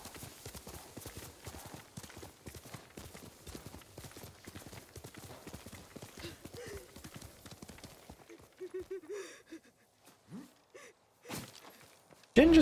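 In Ghost of Tsushima, horse hooves clip-clop in a fast steady gallop that slows and stops, followed by scattered thuds and shuffles of a dismount, with a short voice and a louder hit at the very end.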